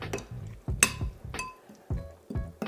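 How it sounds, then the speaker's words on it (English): A spoon stirring a feta and portobello omelette mixture, clinking sharply against the bowl six times in an uneven rhythm, close and clear with no talking. "I'm gonna give it a stir and a taste."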